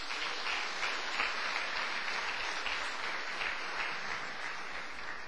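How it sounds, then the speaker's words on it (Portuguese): A church congregation gives a round of applause, a steady, fairly soft wash of many hands clapping at some distance, continuing evenly with no speech over it. "Agora você pode dar uma salva de palmas para o Senhor."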